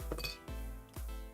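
A 3D printer nozzle drops into a glass jar of acetone, giving three sharp, close glassy clinks about half a second apart, each ringing briefly before fading.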